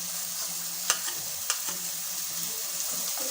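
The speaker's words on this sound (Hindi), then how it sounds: "तो अभी इसके अंदर हम लहसुन और अदरक का पेस्ट डालेंगे।" Garlic and ginger paste stirred into golden fried onions in a hot pan, giving a steady hiss of sizzling oil with a couple of sharp scrapes and taps from the spoon, close up.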